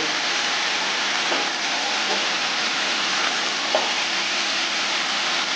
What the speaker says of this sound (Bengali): একটু কষতে হবে মশলাটা